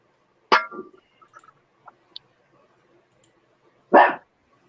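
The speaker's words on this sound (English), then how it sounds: "she's barking at the thunder" A dog gives two sharp, close barks about three seconds apart during a thunderstorm, with faint small clicks and rustles in the quiet between.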